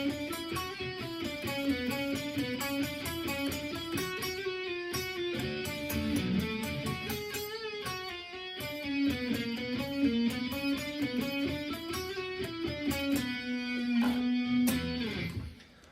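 An electric guitar rips through a riff at full tempo, rapid picked notes cascading in a repeating up-and-down pattern, steady and fairly quiet with no voices.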